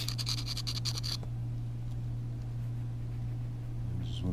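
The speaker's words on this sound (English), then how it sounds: "Tiny bit of sanding." Short burst of hand sanding on a small burr of a motorcycle transmission gear near the differential during an Atomic DRZ build, a close, scratchy rasp lasting about a second before steady shop hum takes over.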